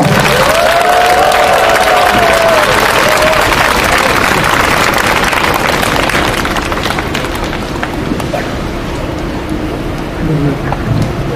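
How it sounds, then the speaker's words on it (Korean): Large audience applause at a Korean public gathering as a priest is welcomed to the stage: sustained, loud, dense clapping that sounds like heavy rain, with a brief voice early and a slight fade near the end. "큰 박수 부탁드립니다."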